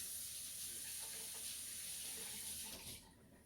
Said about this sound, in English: Let me rinse my hands off right quick.